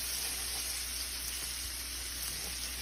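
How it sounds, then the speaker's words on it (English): Onions sautéing in a pan with black pepper and salt, a steady, quiet broadband sizzle with a constant high hiss, continuous and unchanging with no voices. "we're gonna saute those now real nice"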